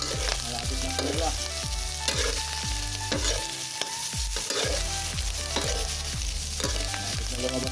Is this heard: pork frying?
yes